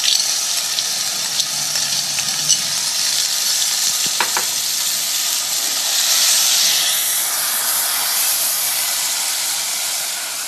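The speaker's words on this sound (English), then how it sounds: "It is getting cooked in its own juices and curd" Marinated mutton frying in its own juices and curd, a loud, steady close-up sizzle with hissing steam and a couple of faint clicks, no talking.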